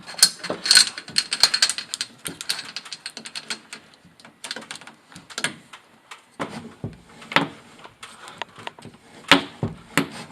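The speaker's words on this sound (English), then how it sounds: "in order to cut this conduit without cutting the wire inside, we've got this guy." A chain-link conduit cutter, a chain of links each carrying a cutting wheel, wraps around metal conduit and scores it, giving a run of dry ratcheting clicks and scraping bursts that come in uneven clusters, close to the microphone.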